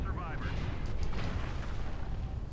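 Weapons fire and explosions in MechWarrior Online, a continuous rumbling barrage of booms and blasts with a muffled, heavy low-end roar, and a brief electronic warble early on.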